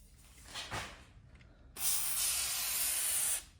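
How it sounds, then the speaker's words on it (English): A brief puff of WD-40 spray is followed by a longer, louder sustained aerosol hiss that cuts off abruptly, close to the listener, aimed into a seam on a rusty antique cast iron oven. "I'm gonna give it a little spray"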